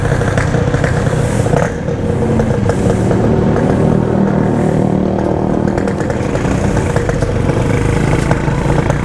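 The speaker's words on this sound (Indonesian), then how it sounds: "Digas berat." Motorcycle with a PWL carburetor revving hard on a night ride, a loud raw engine roar held high and continuous with slight rises and dips, close by.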